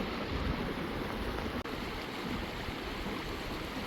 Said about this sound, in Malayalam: വെള്ളച്ചാട്ടം ഇപ്പോൾ വെള്ളം കുറവാണ്,